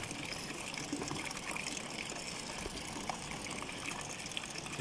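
A steady gush of pigeon grain being poured into water, a continuous trickling wash of moderate loudness with no voice over it.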